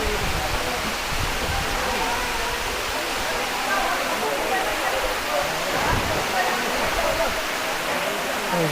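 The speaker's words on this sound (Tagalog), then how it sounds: "Dito sa Lobcon Falls." Lubcon Falls in Cortes, Surigao del Sur, pours as a loud, continuous broadband roar of falling water that stays even throughout and fills the whole scene.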